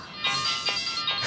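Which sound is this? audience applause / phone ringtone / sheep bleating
phone ringtone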